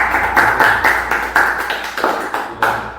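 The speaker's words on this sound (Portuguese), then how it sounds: "Uma salva de palmas para Daniel Medeiros." A short round of applause for a guest at the close of a car podcast session: several quick claps in a loose rhythm, close and fairly loud, for about three seconds.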